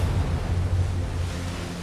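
Powerful rushing water of the undammed Yellowstone River in flood, a dense, steady roar with heavy low rumble, loud and continuous with no voices.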